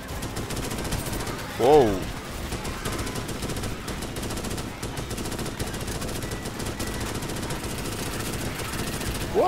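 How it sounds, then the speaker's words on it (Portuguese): Rapid machine-gun fire rattles almost nonstop in the sci-fi shooter game Starship Troopers: Extermination, dense and loud, with a short swelling whine partway through and a brief exclamation from a player. "Eu acho que eu tô dando muito tiro em fogo amigo."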